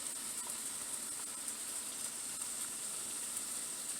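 Garlic and spices frying in a pan give a steady, even sizzle that stays constant throughout with no talking.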